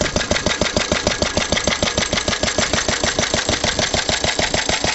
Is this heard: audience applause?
no